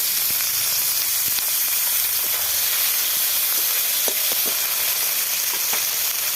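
Tomatoes frying in hot oil in a pan for a vegetarian ghugni, a loud continuous close sizzle with faint occasional stirring clicks.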